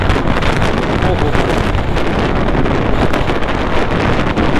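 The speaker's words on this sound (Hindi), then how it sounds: "इतनी तेज हवा है यार," Strong wind roars steadily and loudly into the microphone on a mountain road beside the Sutlej river at night, a continuous buffeting rush with a voice faintly under it.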